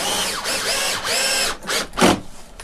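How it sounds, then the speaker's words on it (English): A power screwdriver drives a screw through a mounting hole to hang a roman shade in a window frame: a loud whirring buzz in several short bursts with rising pitch, ending in a final grinding push. "So we take that second screw and put it right through the hole."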